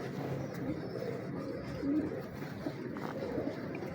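Kasuri pigeons coo softly in a loft, low burbling coos rising here and there over a constant faint murmur of birds, fairly quiet and close.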